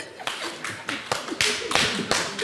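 A studio audience on a French regional TV show claps in several short, distinct bursts of applause, each rising and fading quickly, fairly close, with no speech over them.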